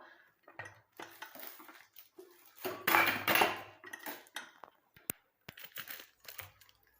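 Hair dye paste mixed with coconut oil and stirred in a bowl, heard as intermittent scraping and clinking of a utensil against the dish, with a denser burst of mixing in the middle.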